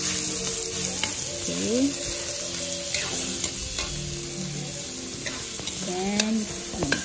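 Garlic and ground pork sizzle steadily in a pan for bola-bola, with scraping stirs of a utensil over the hiss and a brief word spoken once.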